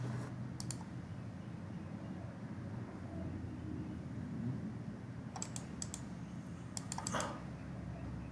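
Quiet clicks of typing on a computer keyboard while drafting in AutoCAD: a few short key taps early, then a cluster of keystrokes later over a steady low background hum, with no talk.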